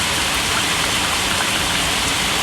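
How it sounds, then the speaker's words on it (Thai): Heavy rain pours down steadily at night over a golden apple snail breeding pond, a dense, unbroken hiss of drops striking surfaces at close range. "เมื่อสองวันที่ผ่านมาฝนตกแรงแบบนี้เลยครับตอนกลางคืน"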